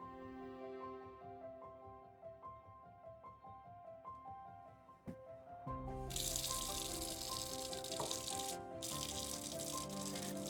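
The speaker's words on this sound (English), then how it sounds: "thoroughly wash your hands with soap and water" Soft music with piano-like tones plays for about five seconds, then water gushes loudly and steadily from a tap as hands are washed with soap, the flow continuing under the music to the end.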